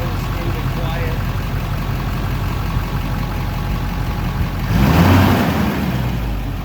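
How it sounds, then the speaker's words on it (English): An upgraded HMMWV Humvee with a smooth, quiet drivetrain idles steadily in a low rumble, with a brief louder swell near the end suggesting a start or rev; a voice speaks over the engine throughout. "I'll go ahead and fire it up for you too while it's sitting here"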